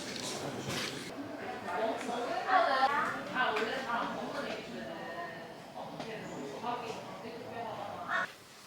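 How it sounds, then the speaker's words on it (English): Birds call outdoors, with crow-like caws at a distance, while a person talks softly over them. "I don't know if you guys can hear all the birds."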